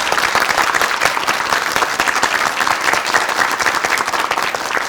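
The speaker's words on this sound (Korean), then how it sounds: "박수 보내주시기 바랍니다" Studio audience on a KBS morning talk show applauding a pediatrician as he is introduced: dense, loud, sustained clapping from a full crowd that fills the whole stretch with no pause.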